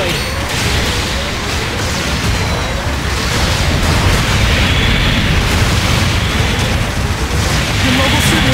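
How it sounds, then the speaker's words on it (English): Loud, continuous rumbling explosion as a mobile suit is destroyed in a video game, a dense roar of booms and crashing debris sustained throughout with no pause. "Your mobile suit has been destroyed."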